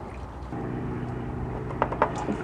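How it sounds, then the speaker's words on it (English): Transmission fluid from a BMW E46's ZF 5HP19 automatic transmission trickles steadily into a drain pan in a garage, a continuous low liquid patter with a few brief clinks and splashes near the end, close and moderately loud. "Got some more fluid draining there."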